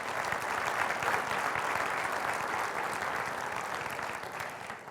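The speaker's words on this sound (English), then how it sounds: "they deserve a round of applause for taking that leadership step" Audience at a county State of the County address breaks into loud, steady applause, dense continuous clapping that fades slightly toward the end, no talking.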